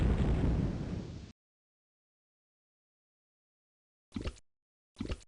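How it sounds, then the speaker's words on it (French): Bomb explosion in the game Lode Runner: The Legend Returns, a loud rumbling blast that cuts off abruptly, followed after silence by two short muffled popping bursts, no talking. "Peut-être une bombe directe."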